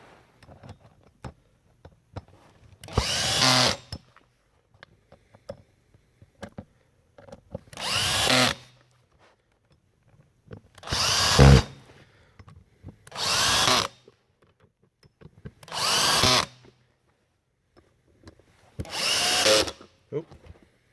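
Power drill driving screws back in while reinstalling a cover on an LPL600 proximity switch, six short whirring bursts spaced a few seconds apart, close and fairly loud, with small handling clicks between.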